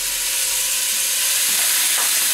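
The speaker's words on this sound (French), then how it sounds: "on va faire revenir euh, nos morceaux de viande. comme, on dit, on va la faire colorer sur toutes les faces" Beef pieces browning in a frying pan for a Provençal daube, a steady close sizzling and frying hiss running throughout with no talk.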